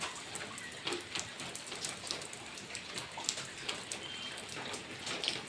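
Rain falls steadily as a dense, even patter of drops hitting surfaces, fairly close and moderate in level, with no talk over it.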